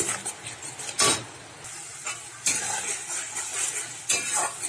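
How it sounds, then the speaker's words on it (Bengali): Ground tomato and green chilli masala stir-fried in oil in a pan, a continuous sizzle broken by several loud spatula scrapes and clinks against the metal as it is stirred. "ভালো করে মশলাটা কষে নিলাম।"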